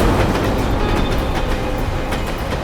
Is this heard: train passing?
yes